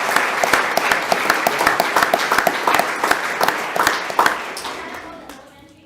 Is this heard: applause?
yes